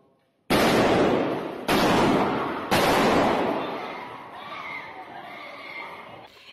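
Gunshots inside a church: three sharp, loud blasts about a second apart, each ringing out with long reverberation and fading into a murmur of voices.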